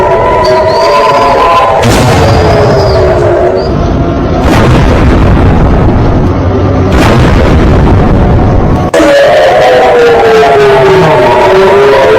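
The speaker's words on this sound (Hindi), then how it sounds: "ये है पाकिस्तान के हमले जो पाकिस्तान की तरफ से हमले किए गए रात के अंधेरे में और इन्हें S-400 ने देखिए आसमान में ही गिरा दिया है।" Missile explosions in the night sky as S-400 air defence intercepts incoming attacks, heard as continuous loud rumbling with several sudden heavy booms, above a constant noisy background.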